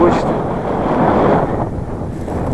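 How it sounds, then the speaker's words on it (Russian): Strong headwind on a mountain plain in Sichuan, China, buffets the microphone in a low, rumbling roar, gusty and close, with a brief rise and fall partway through. "Ветер встречный, в лицо не очень приятно."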